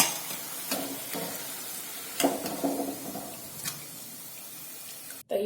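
Gujarati-style cutlets fry in oil over a high flame, giving a soft background sizzle broken by a few sharper crackles and stirring scrapes, with a brief dropout near the end.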